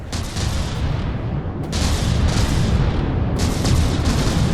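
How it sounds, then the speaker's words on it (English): Stealth bomber flying overhead dropping a heavy stream of bombs in From the Depths, a continuous rumbling barrage of booms with brighter crashes as blasts land, steady and loud throughout. "it's just flying overhead and dropping just mad quantities of bombs"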